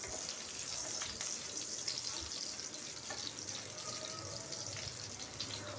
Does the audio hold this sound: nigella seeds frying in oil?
yes